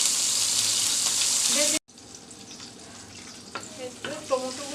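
Loud, steady sizzling of eggplant frying in a pan for a couple of seconds, then it cuts to quieter kitchen clatter with a faint voice.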